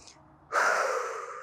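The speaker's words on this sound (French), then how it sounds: "Une longue inspire par le nez." During a calming yoga breathing exercise, a brief faint sound comes first, then a long, loud inhale through the nose begins and holds steady as a close airy rush to the end.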